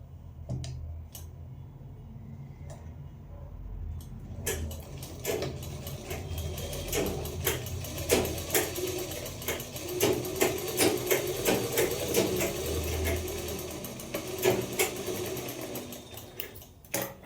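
A sewing machine stitches pajama fabric in bursts of rapid mechanical chatter with clicking gears, starting after a quiet pause and running in uneven runs, close and fairly loud, with no talking.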